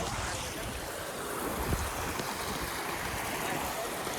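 A fast, swollen river in Ladakh rushes past in the rain, making a dense, continuous roar of churning water. The sound is loud and close, with no break throughout.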